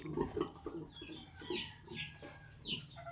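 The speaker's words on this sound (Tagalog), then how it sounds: "Pigs. Baboy." Penned pigs grunt and oink in a rapid series of short, close snorts, with higher squeaky bursts mixed in.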